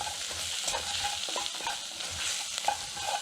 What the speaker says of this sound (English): we're going to heat these spices so they bloom just for about 30 seconds.